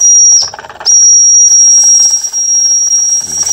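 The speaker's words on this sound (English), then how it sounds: "There's the whistle." A Jensen Model 25 toy steam engine sounds its whistle, a steady high shrill tone that breaks off briefly and resumes, with steam hiss and the engine's chuffing running beneath it.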